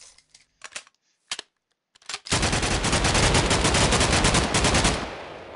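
Sustained burst of M60E4 machine gun fire in a video game, a few scattered shots and clicks first, then about three seconds of loud, dense continuous automatic fire that stops and fades out.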